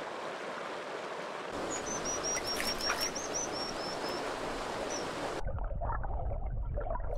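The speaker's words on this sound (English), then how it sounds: "At feeding time, the parents find the waiting chicks by their calls" Young dipper chicks call in a thin, rapid series of high chirps over the steady rush of a stream, the water noise dominating before and after the calls.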